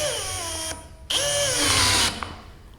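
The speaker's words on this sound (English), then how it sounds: "just hold the chuck so that it starts doing the self tightening." A Bosch GSR 185-LI cordless drill spins its chuck to self-tighten on a bit: a short rising motor whine, a pause, then a second longer high whir that cuts off abruptly, close and alone.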